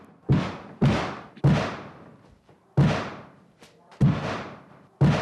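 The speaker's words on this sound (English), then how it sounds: "Stop banging, please!" A child repeatedly banging on something hard in a house after a party, six heavy, resonant thuds at irregular intervals of about a second, loud and close, with no talk.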